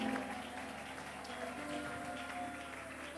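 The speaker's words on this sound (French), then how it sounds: "Nous accueillons le pasteur Timothée Moïse sous vos acclamations." Church audience applauding to welcome a pastor at a thanksgiving worship service, a soft, distant spread of clapping under a held musical tone and background hum.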